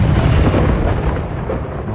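A Confringo blasting spell explodes in the Hogwarts Legacy video game, giving a loud, dense boom that rolls on for about two seconds with a rumbling low body.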